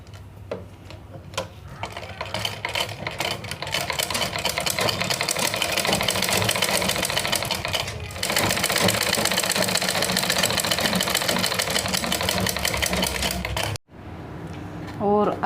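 A sewing machine stitching a sleeve, running in a fast steady mechanical clatter for about thirteen seconds, close and loud, then it stops abruptly before a brief quieter stretch.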